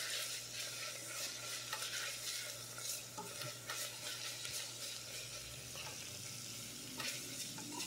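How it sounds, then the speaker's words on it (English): Garlic and onions fry steadily in a pan with a constant close sizzle and occasional stirring scrapes, no voices over it. "I can smell the garlic is cooking up."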